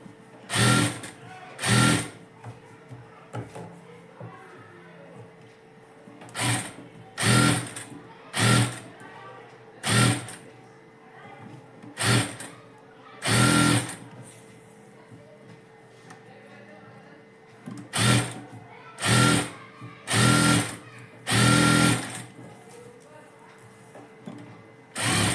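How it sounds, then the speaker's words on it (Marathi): A tailor's sewing machine stitching blouse fabric around all four edges, running in short loud bursts of rapid mechanical whirring separated by brief pauses, close up with no talking. "सेट केलाय आणि नंतर शिलाई मारायला घेतली. चारी बाजूनी शिलाई मारून घेऊया आपण."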